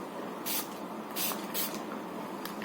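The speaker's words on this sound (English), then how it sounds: "It's a primer spray and I'm just going to shake it well" Mars Silky Feel face primer spray, three short bursts of fine hissing mist close up, with a brief fourth puff at the end, over quiet room tone.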